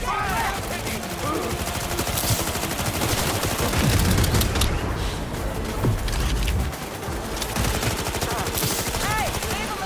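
Dense, rapid gunfire bursts and automatic weapon fire fill a Cyberpunk 2077 firefight, loud and continuous, with deep booms layered in and shouting voices beneath.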